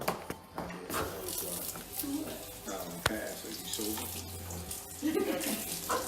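Water poured onto jumbo sea scallops cooking in a pan, a running splash with a light sizzle, close by, under a busy kitchen background with people talking.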